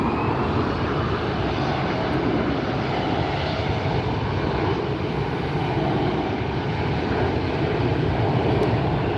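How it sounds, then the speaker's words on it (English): An Airbus A380 airliner arriving at LAX, a loud continuous jet engine roar holding steady throughout, close by and with no voices. "Oh, we got an A380 coming in, our second A380."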